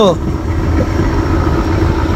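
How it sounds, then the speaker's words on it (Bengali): Karnaphuli 9, a river passenger launch, runs its engine with a loud, continuous low rumble heard from nearby on the water. "কর্ণফুলী 9-এর ইঞ্জিন থেকে বিকট শব্দ হইতেছে ভাই"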